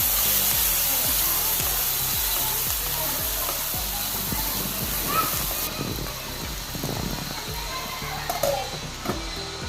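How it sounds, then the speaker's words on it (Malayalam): Masala crispy corn frying and being stirred in a kadai, a loud continuous hiss with repeated scraping strokes of a spoon through it; close and dense throughout, no talking. "എന്നിട്ട് നല്ലപോലെ ഒന്ന് ഇളക്കി കൊടുക്കുക"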